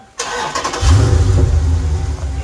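A Dodge Challenger 392 HEMI with a straight pipe exhaust fires up after a brief quiet moment, then settles into a loud, deep, rumbling idle close by, with no voices.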